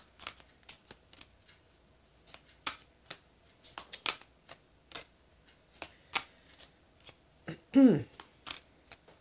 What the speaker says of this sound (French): je vais couper le jeu et je vais donc étaler les cartes et recouvrir ici.